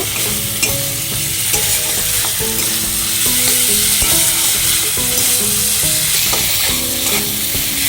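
Soaked spice paste fries loudly in oil for a banana-flower and prawn curry, a dense, unbroken close-up sizzle with stirring throughout and music playing underneath.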